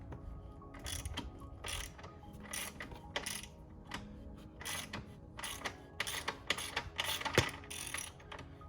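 A ratchet wrench clicks steadily as it breaks loose and backs out an engine mount bolt while fitting a crash protection kit on a 2019 Honda CBR600RR, rapid ratcheting bursts close up with a few sharper metallic knocks.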